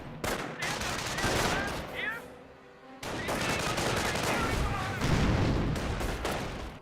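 A rifle squad trades fire with Grenadiers in Company of Heroes, sustained crackling small-arms and machine-gun bursts with heavier booms, mixed with in-game voices and continuing almost without pause.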